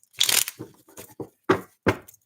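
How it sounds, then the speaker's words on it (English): A deck of playing cards being shuffled by hand: a few quick, close riffling bursts separated by short pauses, with no talking. "Let me just shuffle these cards a little bit."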